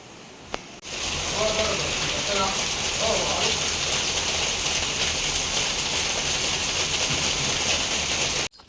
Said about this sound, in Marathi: बघितलं ना कसा पाऊस येत होता